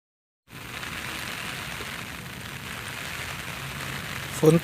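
Steady rain falls beside a natural canal where someone is float fishing, a continuous soft patter with a few brief louder knocks near the end.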